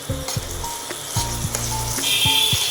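Ginger-garlic paste frying with potatoes in a pan, a steady close sizzle broken by repeated scraping and stirring strokes, with a few light utensil taps.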